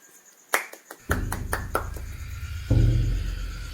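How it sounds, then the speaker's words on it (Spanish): A few spontaneous handclaps break out at the close of a radio program, several distinct sharp claps in quick succession before a sustained tonal sound with a low hum takes over. "ese aplauso fue espontáneo"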